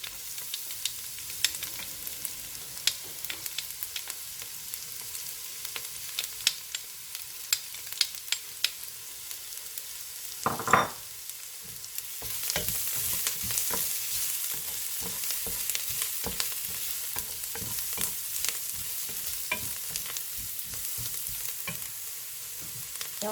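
Garlic frying in a pan for tagliatelle with fourme d'Ambert and scallops: a steady sizzle with scattered stirring clicks and scrapes, growing louder and denser in the second half, no voices.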